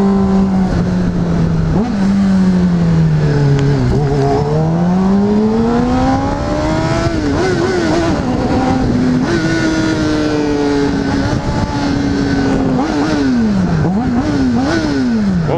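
Close, loud Honda CBR600RR sport bike engine revving hard, pitch climbing and falling through repeated throttle blips and sustained high-rev pulls with no talk over it.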